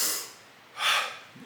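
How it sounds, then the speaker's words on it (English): Quick breathing demonstrated as a breathing-gear exercise: two sharp, close breaths, an airy exhale then another forceful puff about a second later, each brief and breathy with quiet between. "You would do that kind of breathing I just did if you're trying to get back down to gear 4"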